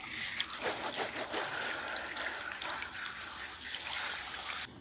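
Tap water runs steadily over a bleach-covered hair dye brush in a sink, a continuous close trickling and splashing that stays fairly quiet throughout and cuts off abruptly at the very end.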